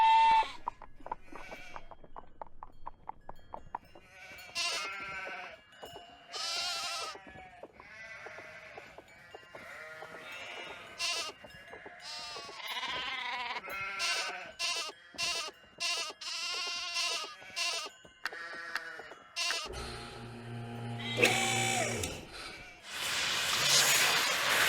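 Sheep bleating in a Nancy Drew adventure game set at Castle Malloy: a busy run of overlapping wavering bleats, loud and close, with one heavy harsh call near the end.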